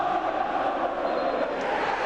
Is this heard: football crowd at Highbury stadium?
yes